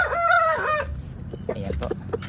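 An Aseel chicken crows loudly and close by in one drawn-out call, followed by scattered short clucks from the flock.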